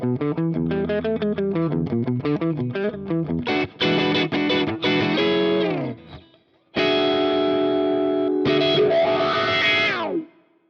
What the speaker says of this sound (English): Next up is our blues, our edge of breakup sort of tone, and it sounds like this.